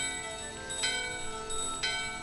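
A door bell in the video game Final Fantasy IX rings twice, about a second apart, over steady background game music; each ring is a bright chime.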